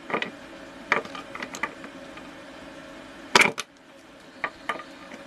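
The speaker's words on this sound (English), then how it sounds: "we're just going to tighten up our bolt and nut" A bolt and nut are tightened on a homemade hand-spun vinyl record cleaner's bearing housing, giving a few separate metallic ratcheting clicks and one sharper cluster of clanks, all close and fairly quiet.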